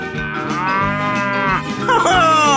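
A cow in a 3D animal slide video game lets out a loud, drawn-out moo that rises and falls in pitch, heard alone and up close.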